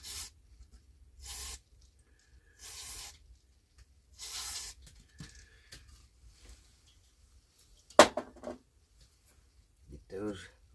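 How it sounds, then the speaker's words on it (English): Electrical contact cleaner hisses from a spray can onto the battery contacts of a 1950s Angell six-transistor AM radio in four short close bursts, followed by quieter handling clicks and rustles. "I want to spray a little bit of cleaner on them contacts"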